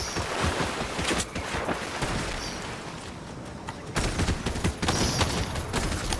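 Gunfire in the video game Fortnite, with rapid, continuous shots rattling over busy game noise throughout, moderately loud.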